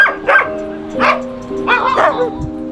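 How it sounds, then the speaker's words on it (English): Dogs in extreme Siberian cold, at −71°C in Yakutia, give several loud, close barks and yips in uneven bursts, with a whimpering, howl-like tone between them. "As you can see, there are some dogs here."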